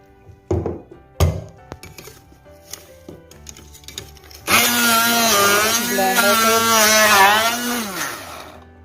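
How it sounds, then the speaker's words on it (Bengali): A kitchen blender grinds peeled ginger and garlic with salt and water, starting after a few sharp knocks and clunks with a loud, steady, high-pitched motor whine that shifts pitch slightly as the blades churn the mixture. "আমার আদা রসুনগুলো ছোলানো হয়ে গেছে, আমি এখন ব্লেন্ডার করে নেব।"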